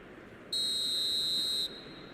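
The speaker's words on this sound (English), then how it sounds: "There's the whistle." A referee's whistle in the eFootball video game during a match against Portugal, one sharp sustained blast of about a second over a low crowd murmur.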